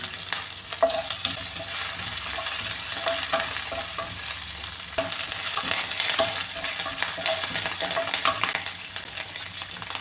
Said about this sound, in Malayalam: ഈ ചോപ്പ് ചെയ്ത് വെച്ചിരിക്കുന്ന പച്ചമുളക് അതും കൂടി ഇട്ട് കൊടുക്കുവാണ് കുറച്ച് കറിവേപ്പില കൂടി ഇട്ട് കൊടുക്കാണ്